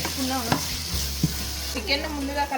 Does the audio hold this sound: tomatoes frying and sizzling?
yes